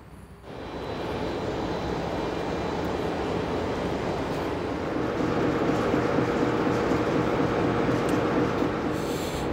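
Diesel train rolling out of a station on a cross-border route from Oradea toward Püspökladány, a steady low rumble and engine drone that starts after a brief quiet and holds loud and even to the end, with no talk.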